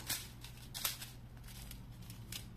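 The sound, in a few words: small pair of scissors cutting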